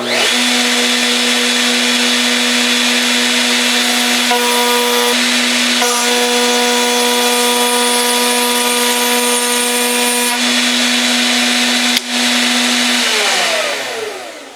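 A router running steadily while cutting slots in wooden box pieces, a loud, constant high whine with a brief dip as the wood passes, then winding down at the end.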